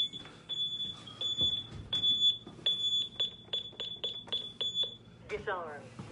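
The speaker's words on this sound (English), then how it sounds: "I be putting that alarm on when I'm in here." A home security alarm system in a Baltimore house beeps as it is armed: a string of sharp, evenly repeated electronic chirps, close and clear, with people talking underneath.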